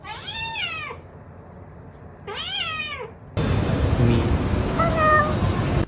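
A small kitten gives two distinct rising-and-falling meows, close and clear, with a quiet pause between them, followed by a burst of louder rustling noise in a home setting.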